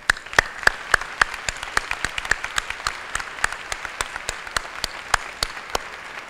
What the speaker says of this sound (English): Colleagues, please join me in giving the class of 2014 a round of applause.